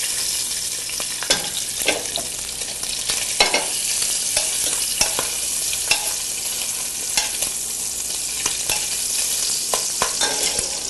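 Bacon browning in a pan, frying loudly with steady broadband sizzle and frequent sharp spits and pops of splattering grease throughout, close up with no voices.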